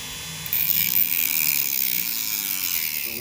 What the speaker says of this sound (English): Brendan Reptile Guy is going to use a little thin Dremel.